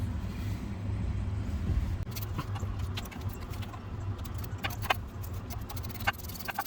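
Small metallic clicks and light tool taps from a 10mm bolt being loosened on the transmission pan of a 2013-2018 Nissan Altima with a CVT, close by over a steady low background hum, no talking.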